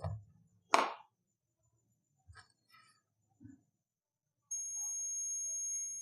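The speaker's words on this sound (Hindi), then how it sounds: "कंटिन्यूटी का आप बजर देख सकते हो बज रहा है" A multimeter's continuity buzzer sounds a steady, shrill electronic tone for about a second and a half near the end, preceded by a few brief clicks and taps of the test probes.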